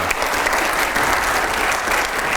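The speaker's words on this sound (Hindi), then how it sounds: "एक बार जोरदार तालियां हो जाए पहले इसके लिए।" A studio audience at an interview breaks into a steady, dense round of applause, loud and continuous throughout with no voices over it.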